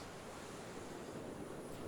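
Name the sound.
ocean waves near the water's edge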